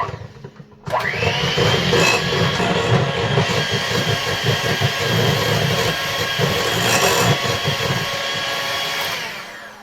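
A hand mixer whirs steadily through keto blueberry muffin batter made with almond and coconut flour. It starts abruptly after a brief quiet moment and runs loud and close for about nine seconds before tapering off.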